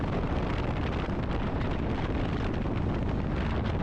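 Strong, steady wind roars and buffets the microphone without a break at a park with dirt trails during a motorcycle outing, loud and close with no voices.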